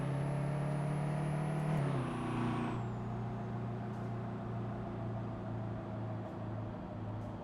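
A car engine runs with a steady low tone that drops in pitch partway through as the revs fall, continuing as a loud close hum with a faint high whine above it.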